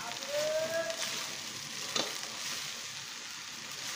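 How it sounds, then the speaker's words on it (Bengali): Fried rice stirred in a pan with cooked vegetables, a close continuous sizzle with soft scraping strokes and one brief clink of the utensil against the pan. "দিয়ে একটু নেড়ে চেড়ে নিচ্ছি।"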